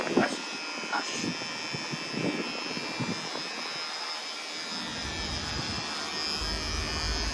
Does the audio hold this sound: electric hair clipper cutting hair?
yes